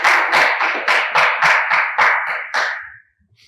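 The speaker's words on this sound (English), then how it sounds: "Please applaud them." A room of people applauding two debating schools, about nine loud, evenly spaced claps in a strong unison rhythm, then a sudden stop into near silence.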